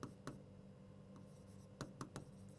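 Quiet, intermittent taps and short strokes of writing on a surface during a Hindi current affairs lesson, a few separate marks spaced unevenly over a low background hum.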